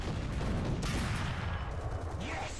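Tank cannon fire from a Cobra King in a video game battle against an M6, heard as a dense, continuous roar of blasts and impacts with a loud burst near the start and rumbling explosions throughout.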